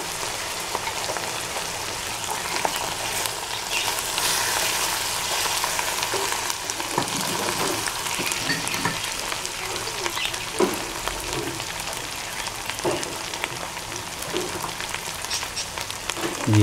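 Cumin seeds sizzle in hot oil in a pan for aloo gobi, a dense, steady crackling hiss like rain, continuous throughout with occasional stirring clinks and no talking.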